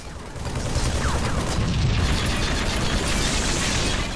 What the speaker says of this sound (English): That was the worst grenade throw of all time.